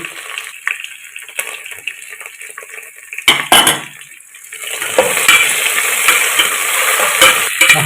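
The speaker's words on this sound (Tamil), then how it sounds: "வெங்காயம் வதங்கிருச்சு கொத்தமல்லி புதினா இதில் சேர்த்துக்கணும்" Sautéed onions sizzling in a pan as coriander and mint go in for jackfruit biryani, a moderate hiss broken by stirring clatter, with a louder burst of scraping midway followed by a fuller, steadier sizzle.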